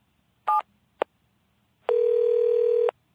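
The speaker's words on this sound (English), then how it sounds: "Mr. Williams picked up the phone and dialed his home number." Telephone dialing sound effect in a story: two short tone blips followed by a steady one-second electronic tone, clean and loud with no talk.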